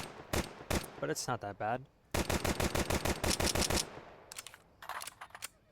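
Glock pistol firing in Counter-Strike 2, with a few separate shots and then a fast, even string of sharp rounds up close, followed by scattered bursts. Someone speaks briefly between the volleys.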